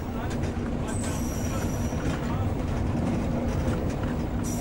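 A historic Berlin tram on a special trip toward Schmöckwitz rumbles along the rails with a steady low drone, faint wheel squeals and a few clanks, with a voice speaking over it.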